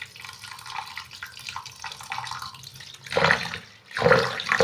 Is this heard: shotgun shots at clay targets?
no